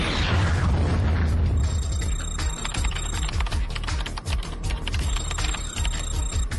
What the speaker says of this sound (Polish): To eksplozja! Torpeda z kapsuły!